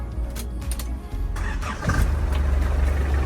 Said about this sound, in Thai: ฟังเสียงเครื่องสัหน่อยไหม